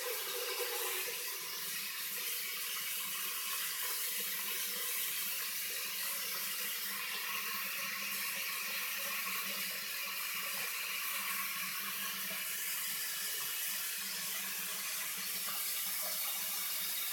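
Tap water pours steadily into a pressure cooker, a continuous hissing splash that stays constant and fairly soft for the whole stretch with no talking.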